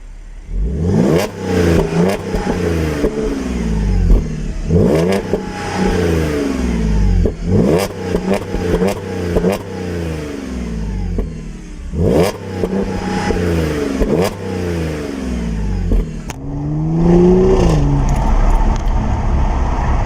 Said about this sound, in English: you can probably hear that there of the engine kind of farting away